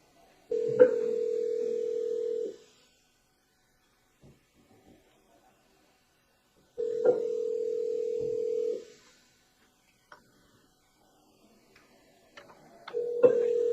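An outgoing telephone call rings through toward voicemail, with three steady electronic ring tones, each about two seconds long and separated by silent gaps, plus faint clicks between them on a recorded line.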